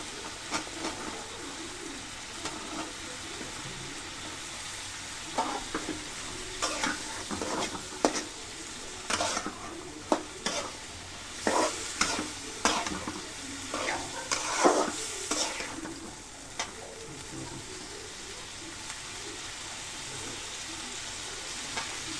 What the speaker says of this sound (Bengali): মশলাটা কষানো হয়ে গেছে, এখন দিয়ে দেব ডাটাগুলো